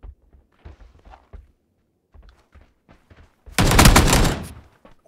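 A gunshot in the battle royale game PUBG: one loud, sharp burst with a ringing tail of about a second, after a run of soft footstep-like thumps.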